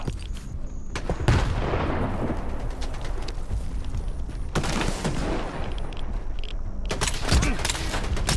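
Gunfire in the video game Stalker 2, several loud bursts of shots spread over the clip with a constant ambient bed between them, no talk.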